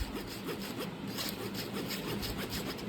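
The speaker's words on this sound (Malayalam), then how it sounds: "ഇതിങ്ങനെ 3 പ്രാവശ്യം അരിക്കുക." A flour, baking powder and dry ingredient mixture sifted through a sieve, a quiet, steady, rhythmic scraping and rubbing with repeated strokes, close and alone.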